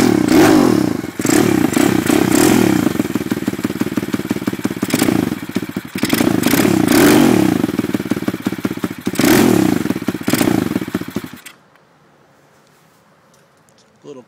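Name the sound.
Lifan 140 pit bike engine running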